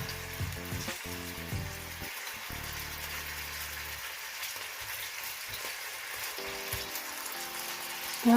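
Chicken satay brushed with ketchup and oil sizzles and fries in a pan, a continuous soft crackle, quiet and close, with occasional clinks and knocks and no talking.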